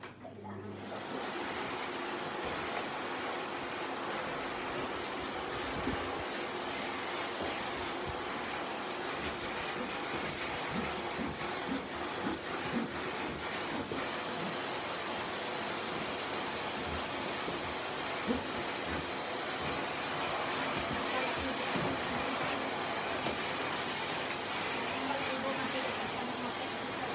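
A vacuum cleaner runs continuously while sucking up a dog's long hair during house cleaning, a steady broadband whoosh with slight fluctuations as it moves, a voice briefly audible beneath the drone.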